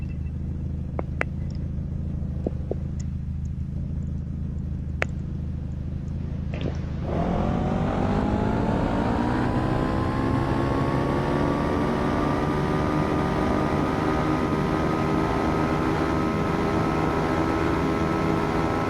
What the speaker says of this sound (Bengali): বাইকের স্পিড করছিস